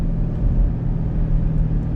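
A 2023 Chevrolet Camaro SS V8 rumbles steadily while driving, a deep continuous engine drone with road noise, close and moderately loud with no talk.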